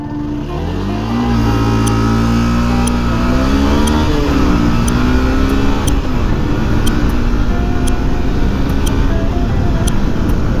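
A Yamaha FZS V2 motorcycle accelerates hard from a standstill toward 100 km/h on an open road, its engine note climbing through several gear changes and staying loud and steady throughout, with no talking.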